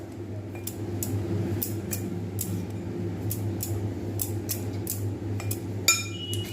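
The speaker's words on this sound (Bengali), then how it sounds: "এবারে আমি এখানে এটাকে ভালোভাবে মিক্স করে নেব" Batter seasoned with salt is mixed in a bowl for Bengali patishapta, heard as a steady run of faint light clinks and taps against the bowl over a low background hum.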